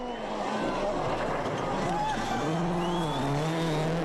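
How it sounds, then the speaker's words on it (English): A Citroën rally car at Rally Argentina 2007 pushing through a water crossing, with engine whine and splashing rising and falling under continuous race commentary. "a slightly cautious approach there from Sébastien as he tries to find the car's limits through water"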